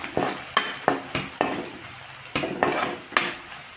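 Dried fish being added to half-fried onions and chilli in a pan, a series of about eight sharp scraping and clinking strokes of a spatula against the pan over a low background sizzle, in an uneven rhythm.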